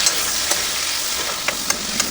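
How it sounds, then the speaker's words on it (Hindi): Onions fry with cumin and whole spices in a pan cooked inside a truck, giving a steady bright sizzle with a few soft scraping stirs over about two seconds, with no talking. "फिर इसमें आ जाएगा प्याज। प्याज को अच्छा से मिक्स कर लेते हैं।"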